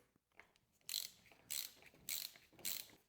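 A ratchet drives a 24mm socket on the air spring top cap of a RockShox Judy suspension fork, giving four separate bursts of fast, close clicking with short pauses between them and no talk.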